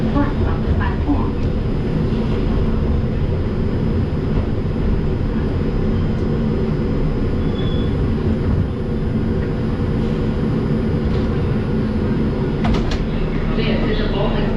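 Steady loud rumble and rattle from inside an R142 subway car on a 5 train, running continuously with wheel and track noise throughout and a few faint squeaks near the end.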